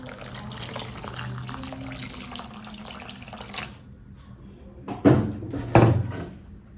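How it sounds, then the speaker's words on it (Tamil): Water is poured into a simmering pomfret fish curry, about 300 ml added; splashy pouring bursts rise over a low background hiss, with two louder, brief pours near the end. "ஒரு 300 ml தண்ணி ஊற்றிக்கிட்டேன்."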